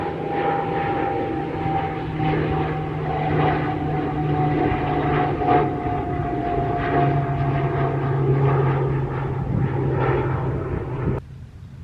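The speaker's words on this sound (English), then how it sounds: "There's an aeroplane." A propeller airplane drones steadily overhead for several seconds, a constant engine hum with no voices, cutting off near the end.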